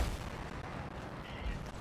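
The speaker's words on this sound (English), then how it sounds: "What is shooting at us?" Enemy Scar gunfire in the video game Anthem, a dense, steady barrage of booming shots and low rumbles running throughout, fairly loud with no pauses.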